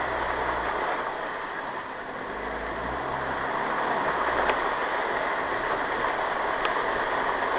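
A Land Rover engine pulls steadily in third gear on low revs, a faint, continuous drone with a low rumble running evenly throughout.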